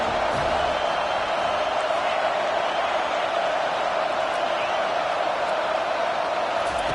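A football stadium crowd cheers at a Notre Dame versus Florida State game. The massed noise is loud and continuous and holds steady for the whole stretch.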